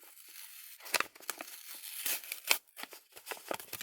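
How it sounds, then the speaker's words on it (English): Plastic bags crinkle and tear open during the unboxing of a monthly craft supply subscription box, with irregular close rustling and ripping bursts and short pauses between them. "Sorry about the noise here of opening the bags"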